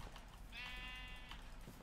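A sheep bleats once in Minecraft, a single wavering cry lasting under a second that rises clearly over a low, steady game background, with no talk over it.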